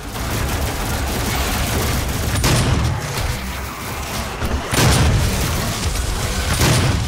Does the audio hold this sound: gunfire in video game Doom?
yes